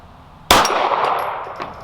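A 9mm round from a Smith & Wesson M&P 2.0 Compact pistol strikes a silver steel gong target at 50, giving one sharp metallic clang that rings and decays slowly, with a faint second ping later.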